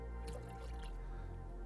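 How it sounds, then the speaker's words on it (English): Water dripping and trickling as it is drawn out of a five-gallon bucket, a steady faint liquid patter with small splashes, close by and with no talk. "So I'm taking water out."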